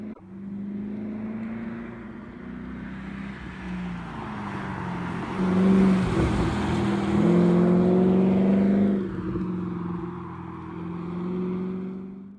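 A Porsche 928 driven hard on the road, its engine droning steadily and rising in pitch as it accelerates through the gears, loud and close from inside the car with no talking.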